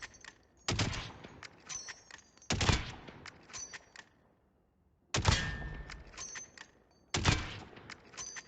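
Rifle shots at targets in Call of Duty Modern Warfare, four sharp gunshots in two spaced pairs, each with a short ringing tail and the clatter of game effects between them.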